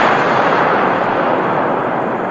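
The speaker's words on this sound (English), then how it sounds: "an explosion went off nearby that rocked the entire area" Explosion sound effect in a Naruto fanfic story reading, a loud, dense, rumbling blast of noise sustained for a couple of seconds with no voices.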